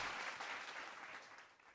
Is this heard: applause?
yes